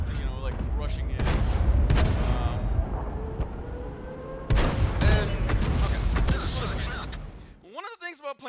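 Artillery fires a shot in World of Tanks during a battle on Ensk, heavy booms and rumbling blasts over continuous combat noise, with a rising whistling tone at the end.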